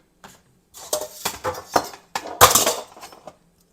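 Metal whisk clattering against a bowl while mixing a lemonade pie filling, several uneven bursts of scraping and clinking close up, with short pauses between strokes.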